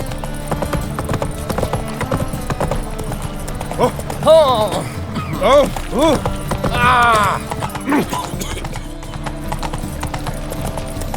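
Roach, a horse in The Witcher 3, clip-clops along steadily with a fast, even hoofbeat rhythm that stays close and loud, joined by a few neighs and whinnies, while voices talk over the ride.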